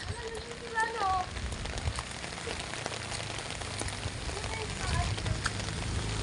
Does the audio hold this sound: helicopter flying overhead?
no